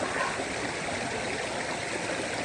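A stream at Magdalena flows continuously with a steady rushing, trickling wash, even and close, with no voices.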